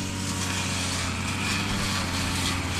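A grass cutter runs continuously at close range, giving a steady, loud engine drone with no pauses and no voices.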